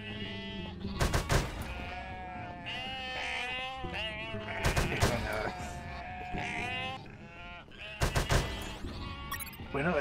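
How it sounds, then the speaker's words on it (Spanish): A flock of sheep in the video game Unmetal bleats repeatedly in wavering, overlapping cries, close and loud, broken by several sharp bursts of gunfire. "250 ovejas. ¿Oveja?"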